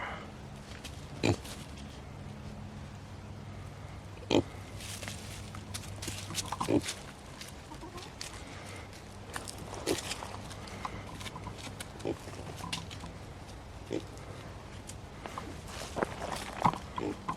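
Pigs on a farm grunt and shuffle about at close range, with a few sharper knocks and thumps breaking through a steady low rumble of activity.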